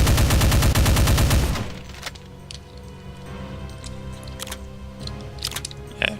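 Chain gun firing in the video game Heretic with the Complex Doom mod: a loud, rapid, even burst of shots for about a second and a half, then quieter clattering game sounds with occasional sharp clicks.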